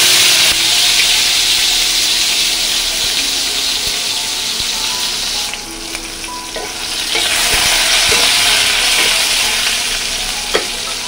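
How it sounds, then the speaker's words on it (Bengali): Black mustard seeds and whole cumin sizzling in hot oil for a raw-mango sour dal, a loud continuous close hiss and crackle with scattered pops, no talk. "তেলটা গরম হয়ে গেছে। এবার আমি এর মধ্যে দিয়ে দেব কালো সর্ষে আর দিয়ে দেব জিরে, গোটা জিরে।"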